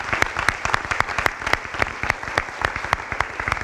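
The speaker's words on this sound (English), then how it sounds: "give him one last big round of applause for all that he has done for" Steady round of audience applause at a high school athletics awards ceremony, many hands clapping densely and continuously at moderate loudness throughout.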